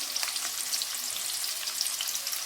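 Onions sizzling and frying in a pan for gobi dum biryani, a steady, dense crackle of hissing oil with scattered pops, continuous and close, with no talking.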